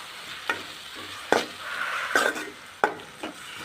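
Eggs mixed with curd fry in a pan for egg biryani, a soft sizzle running underneath several sharp scraping and stirring knocks of a spatula spaced irregularly across the moment.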